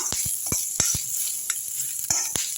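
Ginger and urad dal roasting in a pan with green chillies for a coriander chutney, giving a steady close sizzle broken by several sharp clinks and scrapes of a spoon stirring against the pan.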